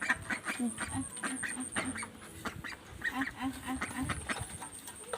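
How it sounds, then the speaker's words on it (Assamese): Three domestic ducks quack in repeated short bursts while being fed grain, some calls clustered close together and others spaced out, with faint background sounds and occasional voices. "হাঁহ তিনিটা আছে। হাঁহ তিনিটাক অলপ দানা দিওঁগৈ।"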